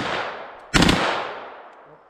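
A single loud gunshot from an MPA Defender Mac 11 pistol at an outdoor range, a sharp close blast followed by a long fading echo.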